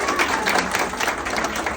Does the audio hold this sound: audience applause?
yes